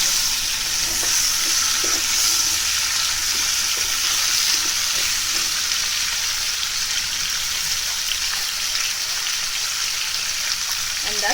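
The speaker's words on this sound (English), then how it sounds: "We will mix it well so that all the spices get mixed properly." Potato chips sabzi, a Punjabi fried potato dish, being stirred with spices in a pan: a continuous close hiss of frying with soft, irregular scrapes and turns of the spoon, no talking.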